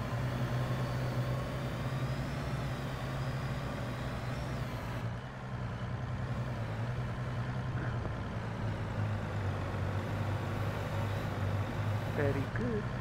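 A video-game Chevrolet fire truck engine drones steadily throughout, with a low rumbling idle and faint higher mechanical tones layered over it.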